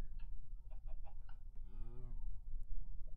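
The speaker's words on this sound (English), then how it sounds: "here we've got the chicken." A chicken in a Minecraft-style survival game clucks in a short series of quick, separate calls, then gives one longer rising squawk over a steady background hum.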